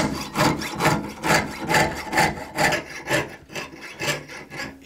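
Hand saw blade cutting through a piece of metal with long, even, rhythmic strokes, each stroke a rasping scrape, about ten in quick succession, close and loud with no talking.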